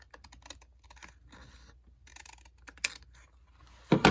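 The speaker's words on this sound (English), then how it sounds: "Got to cut a very thin strip right here. Just to open up the bag." Scissors snip a thin strip off the top of a bag, giving a few quiet, close cutting and crinkling sounds, with a sharper rustle near the end.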